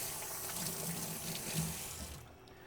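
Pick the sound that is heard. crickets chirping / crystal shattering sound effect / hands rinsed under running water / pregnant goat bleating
hands rinsed under running water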